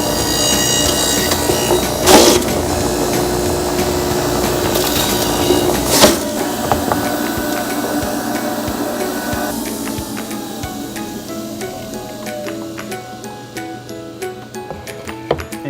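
A Nutrifaster N450 juicer runs loud and close while juicing apple and lime, giving a continuous grinding, crushing roar with a few sharp cracks as pieces hit the blade, then a slight easing in tone near the end.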